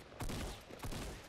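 Fortnite gunfire aimed at a built wall, two quick bursts of shots about half a second apart, fairly quiet and close against ongoing game background noise.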